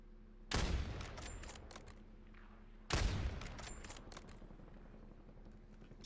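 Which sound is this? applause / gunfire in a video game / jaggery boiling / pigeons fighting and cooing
gunfire in a video game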